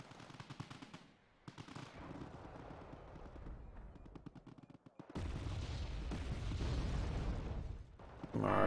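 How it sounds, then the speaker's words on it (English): Artillery and gunfire in Wargame Red Dragon, a battle scene of rapid shot bursts and crackling fire that gives way to a loud, sustained rumbling barrage in the second half. "Our artillery is taking care of that."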